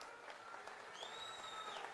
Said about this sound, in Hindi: जोरदार तालियों के साथ हमारे राहुल जी का स्वागत करने का कष्ट करें।